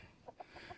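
A backyard chicken gives a few quick, soft clucks in a short, faint burst, close by and with no talking over it.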